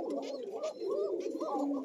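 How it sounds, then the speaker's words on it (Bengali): A pigeon pair with thin, high voices coos in repeated rolling phrases, close and steady, each throaty call running straight into the next. "এই যে নরমাদি, চিকন ডাকের কবুতর"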